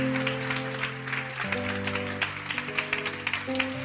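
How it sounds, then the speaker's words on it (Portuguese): A church congregation claps during a sermon, steady applause sounding somewhat distant beneath sustained music tones that shift pitch midway, with no talk over it. "vamos aplaudir mais o Senhor Jesus."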